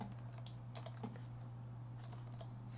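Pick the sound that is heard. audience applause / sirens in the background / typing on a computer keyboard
typing on a computer keyboard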